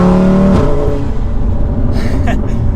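An 800-horsepower Audi RS3 with a built motor and big turbo pulls hard from inside the cabin, with a loud engine note that drops off after a moment into a rough rumble, joined by brief hissing bursts near the end.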